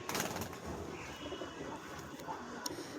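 A pair of racing pigeons, one male and one female, coos softly and steadily at close range over a low background hum, with no talking.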